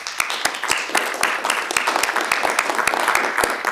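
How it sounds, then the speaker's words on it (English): A small group at a state board meeting claps in a modest round of applause, with distinct individual hand claps standing out over a softer spread of clapping. "if we could just provide a round of applause and thanks to the senator"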